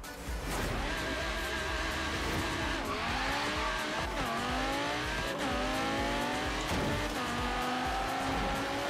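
An Audi R8 V10 race car in the video game Forza Horizon 3 drives hard with full throttle and four-wheel drive, its engine revving loud and steady and its pitch rising and falling through repeated gear changes.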